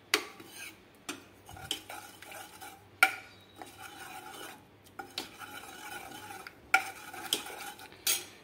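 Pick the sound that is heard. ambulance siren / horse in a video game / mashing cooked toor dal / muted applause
mashing cooked toor dal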